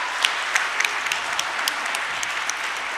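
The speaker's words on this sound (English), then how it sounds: "I think this panel deserves a much louder round of applause." Audience applause at a hospitality industry panel on women leaders, a steady wash of clapping from a seated conference crowd with scattered sharper claps, continuous and fairly loud throughout.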